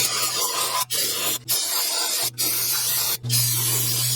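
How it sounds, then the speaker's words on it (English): Brake cleaner sprays onto rear brake shoes on a Nissan, producing a loud, close, continuous hiss broken by four brief pauses between bursts. "I'm just going to get some brake cleaner and clean up these shoes here."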